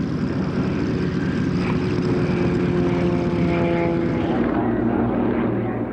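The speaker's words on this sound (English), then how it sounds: "This is the Yak with the rounded tail and exposed landing gear" A Yak aerobatic competition propeller plane with a 360 horsepower engine drones loudly and steadily, close by at an air show, its pitch shifting slightly as it passes.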